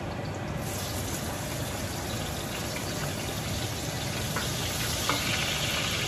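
Garlic dropped into hot butter in a pan for a pasta sauce, a steady loud sizzle and crackle of frying that holds evenly throughout with no voices.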